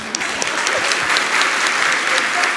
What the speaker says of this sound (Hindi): बजाइए अपने लिए तालियां।